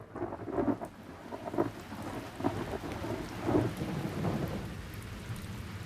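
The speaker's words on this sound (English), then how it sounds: "The rain fell. Hour after hour it rained." A thunderstorm with steady rain on surfaces, with several low rumbles of thunder rolling in at intervals, moderately quiet and without voices.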